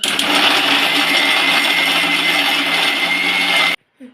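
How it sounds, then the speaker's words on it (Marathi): A mixer grinder whirs loudly while grinding roasted spice masala, a steady high-pitched electric drone that runs continuously and then cuts off abruptly near the end, followed by a brief faint clunk. "हा मसाला आपण त्या मिक्सरमध्ये घालूया आणि सगळे एकत्र करून बारीक करूया"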